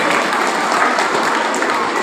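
A school audience applauds students at a prize ceremony, with dense, continuous clapping that is loud and close throughout and stays steady without pauses or voices.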